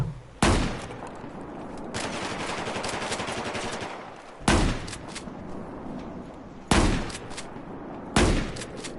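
Battlefield 4 gameplay gunfire: loud, close bursts of automatic weapon fire with sharp onsets, one long sustained volley and several shorter rattling bursts spaced a few seconds apart.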